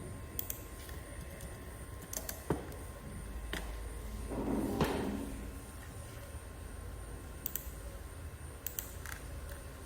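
Sparse key taps on a computer keyboard while entering AutoCAD shortcuts for dimensioning a 2-bedroom house plan: scattered, quiet clicks at irregular intervals, with a soft rushing swell in the middle.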